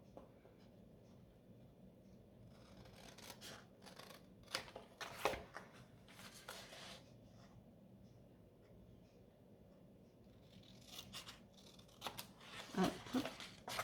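Scissors snip the four corners of a paper album piece for a Craftelier binding project, several crisp close cuts in scattered bursts with paper rustling between, no speech.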